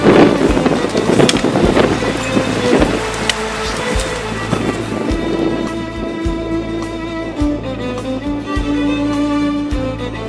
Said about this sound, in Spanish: Y no para de llover, ¿eh?